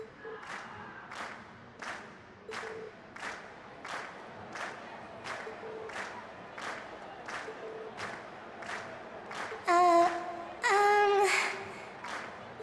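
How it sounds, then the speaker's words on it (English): A crowd cheers in Trails of Cold Steel at the end of a class's stage performance, a rhythmic chant and clapping pulsing steadily, with two louder bursts of shouting near the end. "we've heard your cheers loud and clear"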